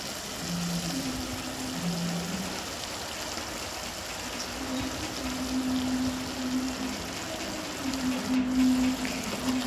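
Masala gravy for egg thokku boils in a pan, a steady, close bubbling and sputtering simmer with a faint hum running beneath it.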